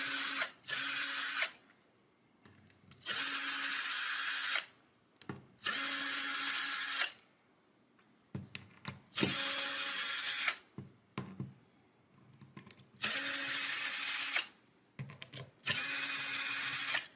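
A power drill unscrewing hardware from the body of a cheap child's Telecaster-style guitar: loud whirring bursts of a few seconds each, separated by pauses with small clicks and handling noises, close and with no talk.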